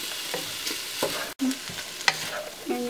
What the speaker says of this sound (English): And you choose to saute it, guys, until soft.